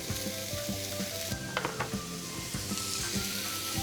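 Steady sizzling and crackling of onion and shallot frying in a hot pan, with a few light scraping stirs partway through.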